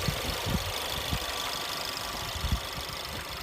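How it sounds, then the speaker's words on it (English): The standard engine of a 2015 Ford Edge SEL idles steadily just after start-up, a close, even mechanical hum with soft rhythmic ticking and no talk over it. "this is the standard engine for the Ford Edge"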